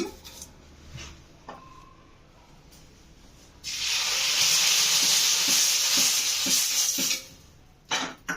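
Masala dosa batter hits a new, hot pan and bursts into a loud, steady sizzle that holds for several seconds before fading away. Faint clinks and small knocks come just before and after it, with no voices.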